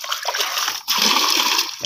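Water splashes into a bucket in a loud, close, continuous pour with a brief break in the middle, and no talking.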